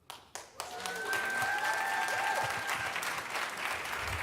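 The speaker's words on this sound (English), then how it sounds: "Audience, I'm going to ask that you refrain from clapping" School board meeting audience claps after a speaker, beginning with a few isolated claps before swelling into steady, moderately loud applause that carries on, with a faint tone and murmuring beneath.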